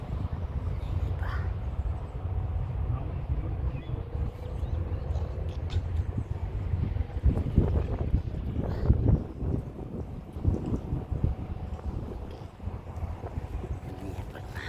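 Gusty wind buffets the microphone in a park in Barcelona, Spain, with a low, rumbling roar that swells and eases, with faint voices in the background.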